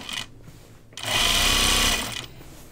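Sewing machine stitching along a seam of a fabric notions case: a short quiet whir, then a steady loud mechanical buzz for about a second that tapers off, close by and alone.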